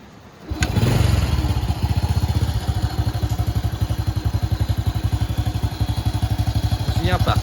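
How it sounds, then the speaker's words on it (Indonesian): A blue 2003 Honda Supra X motorcycle, original and well kept, idles close by with a steady, smooth putter and even pulsing rhythm after a brief start. "Mesinnya bagus, halus"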